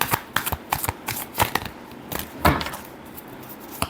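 Tarot cards being shuffled in a run of crisp riffling bursts and flicks, close and fairly loud, with brief pauses between clusters and no talk.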